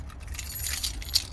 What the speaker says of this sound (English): Too many keys in my pockets.